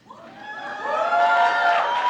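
Cheering and shouting from the MIB group in a commencement audience swells from a few voices into a loud, sustained whoop that holds to the end.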